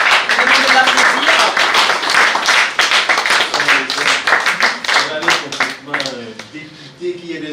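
Applause from a conference audience welcoming a panelist at an immigration-integration event, brief clapping mixed under a man's ongoing loud speech that dominates the clip.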